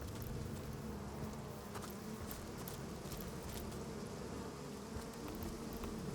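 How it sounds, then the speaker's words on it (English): Bees buzzing in the video game Divinity Original Sin, a continuous faint insect drone with scattered light ticks and clicks in the ambience, with no talking. "I don't think the bees attack you here."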